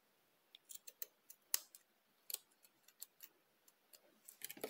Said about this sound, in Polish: wezmę sobie nożyczki i odrobinkę ją przytnę